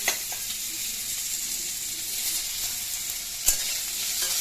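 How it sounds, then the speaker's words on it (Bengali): Potatoes frying in hot oil with dry red chillies and whole garam masala, giving a steady, even sizzle throughout with one sharp clack near the end, no voices. "আলুর সাথে এটা এখন একটু গ্যাসের ফ্লেমটা একটু বাড়িয়ে একটু আলুটা খুব সুন্দর করে একটু ভেজে নেব"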